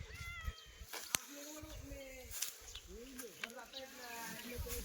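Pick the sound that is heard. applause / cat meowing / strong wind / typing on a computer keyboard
cat meowing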